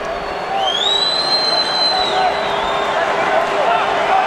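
A football stadium crowd at a Wellington Phoenix versus Newcastle Jets match cheers and roars in a broad, steady swell behind a commentator's voice.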